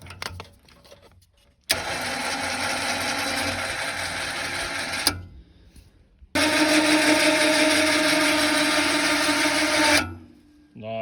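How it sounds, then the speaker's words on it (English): A Runva 3.5 winch fitted to a Polaris Ranger 400 runs in two loud, steady motor whines of several seconds each, with a short pause between them, close to the listener. "then we should get the winch working in the right direction."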